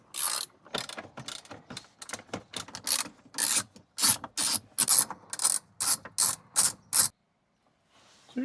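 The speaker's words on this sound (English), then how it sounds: "Now we can get our bolts, which are indeed all 10 mil." A ratchet backs out 10 mm bolts from trim on a Lexus, loud close-up bursts of rapid clicking in a steady series of strokes, then stopping abruptly before a brief faint rustle.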